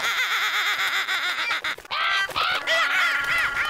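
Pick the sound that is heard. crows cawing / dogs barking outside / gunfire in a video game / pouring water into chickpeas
crows cawing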